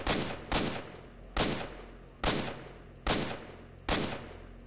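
Six heavy rifle shots in the video game S.T.A.L.K.E.R.: Shadow of Chernobyl ring out one at a time at irregular intervals, each a loud sharp blast with a decaying reverberant tail, no talking.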